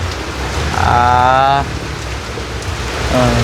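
Steady rain falling outdoors in rural Thailand, a constant loud hiss close by, while a voice speaks briefly over it.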